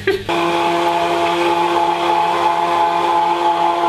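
A Kenwood Wizard hand blender runs on setting 1 with a loud, steady motor whine that holds evenly after a brief start-up, with no speech over it.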